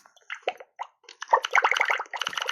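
Several short water plops and drips from the video game Keyboard Escape come in quick, scattered bursts. They start sparse and faint, then grow denser and louder toward the end.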